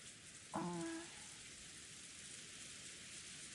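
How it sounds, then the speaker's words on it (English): Steady falling rain ambience from the visual novel game Umineko, a constant soft hiss throughout with a brief tonal chime near the start. "No sound but that of the falling rain filled the room"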